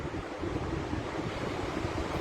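Steady wash of ocean surf mixed with gusting wind buffeting the microphone, continuous and fairly loud with no voices.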